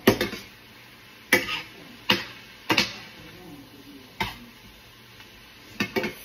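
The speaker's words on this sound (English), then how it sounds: "I'm going to stir my onions and mushrooms over here one more time" Onions and mushrooms sauté in a pan while a spoon stirs them, giving sharp metallic clinks and scrapes spaced irregularly over a soft, low sizzle.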